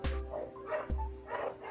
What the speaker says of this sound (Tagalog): napakaingay ng aso